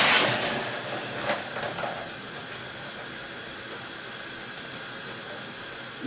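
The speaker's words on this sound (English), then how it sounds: "take the pan, take the strainer and drain the water off" Hot cabbage cooking water pours from a pan through a strainer, a bright hissing splash that fades after a couple of seconds into a soft steady steamy hiss.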